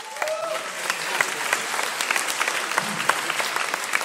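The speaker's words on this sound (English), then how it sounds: "So give yourselves a round of applause" An audience at a Rides4Alz event supporting Alzheimer's San Diego claps for itself, a sustained, lively crowd applause with sharp individual claps standing out near the listener.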